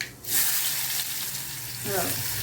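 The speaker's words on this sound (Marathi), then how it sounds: "मोहरी तडली की जिरा टाकायचं। जिऱ्याचा आवाज आला" Cumin seeds hit hot oil after the mustard seeds have popped, setting off a loud, close, continuous sizzle that swells and crackles for a couple of seconds, with no voices.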